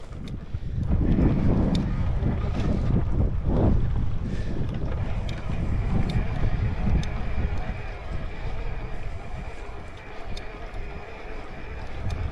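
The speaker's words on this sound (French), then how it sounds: "Il y a un peu de vent." Steady wind roars across the microphone during a mountain ride on an electric-assist mountain bike above Banca, a constant rushing buffet with a few stronger gusts early on.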